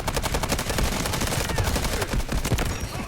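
Rapid automatic gunfire in the shooter game Delta Force, a dense run of loud sharp shots rattling continuously for several seconds without talk.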